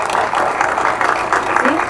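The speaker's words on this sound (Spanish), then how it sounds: "le damos un fuerte y caluroso aplauso a Natalia." Audience applauses for a young indigenous girl, Natalia, about to give a speech; dense, continuous clapping from a crowd fills the whole moment at steady loudness.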